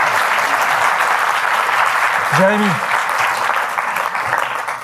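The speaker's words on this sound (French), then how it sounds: "On peut applaudir Jérémy." A conference audience applauds a presenter after a talk on using existing resources to produce better. Broad, continuous clapping runs throughout, with a single voice briefly cutting in over it midway.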